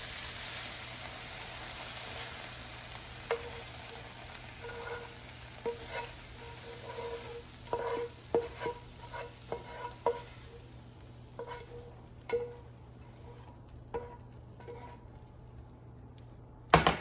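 Hibachi vegetables frying in a pan, a steady soft sizzle with scattered clinks and scrapes of stirring and utensils against the pan, growing sparser as the heat dies down.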